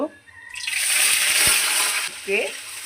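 Water lily stems tipped into hot oil in a wok with nigella seeds and dried chilli set off a sudden loud hiss that holds for about a second and a half, then fades to scattered faint bubbling.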